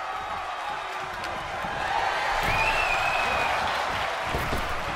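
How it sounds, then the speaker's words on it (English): A roaring crowd in a Friday Night Funkin' themed video game, Team Luigi versus Team Boyfriend, cheers steadily, swelling louder midway and holding as a dense wall of sound. "The sound of this crowd is deafening, and he's asking for more."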